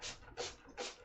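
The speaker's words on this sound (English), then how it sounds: "I'm spraying it now" A spray bottle mists vinegar onto a yarn blank in three quick, faint, hissing bursts about a third of a second apart.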